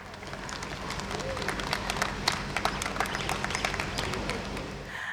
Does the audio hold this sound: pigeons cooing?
no